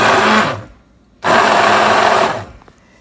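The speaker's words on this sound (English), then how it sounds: "we're gonna use this immersion blender here, and we're gonna stick it right on down" An immersion blender pulses egg yolks in two loud, steady whirring bursts, the first about half a second and the second just over a second, with a short quiet gap between them.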